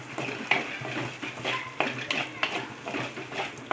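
Masala spices of coriander powder and chili powder sautéing with broccoli and peas for curry, a soft sizzle under repeated stirring and scraping of a spoon in the pan.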